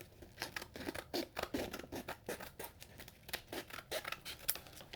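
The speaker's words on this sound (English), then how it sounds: "This is where we're just going to grab some scissors" Scissors or shears snip repeatedly through material at a knife-refinishing workbench, a steady run of crisp, close cuts about twice a second with no talk.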